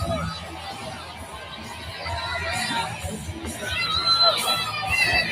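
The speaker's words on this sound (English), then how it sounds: "It's like a very lively crowd" Lively crowd at a political rally in Argentina, a broad roar of cheering and shouting that swells toward the end, with voices mixed into the din.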